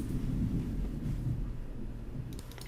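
Deep, rolling thunder rumbles steadily throughout, a continuous low roar from a storm with no break, with a few faint higher clicks near the end.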